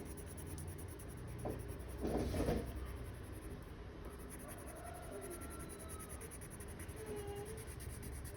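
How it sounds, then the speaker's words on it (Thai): A pink crayon colours in a picture with soft, steady scratchy strokes, faint and close over a quiet background hum, with a slightly louder scrubbing moment early on. "แล้วก็ระบายสีชมพูนะคะ"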